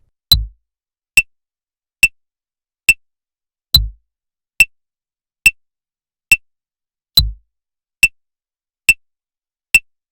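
On a steady metronome-like click track, a drum in Soundtrap plays whole notes, landing a deep thud on every fourth tick three times across the passage.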